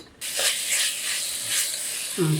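Masala sautéing in a pan for meal maker tomato rice gives a steady, close hiss and sizzle, with a brief voice at the end.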